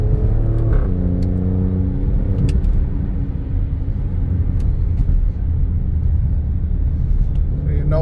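A car drives and brakes repeatedly to bed in new brakes, its engine rumbling steadily close by with rising and falling revs, and a voice is faintly heard.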